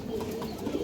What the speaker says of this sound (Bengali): ঘিয়ে চুল্লি মাদি কবুতর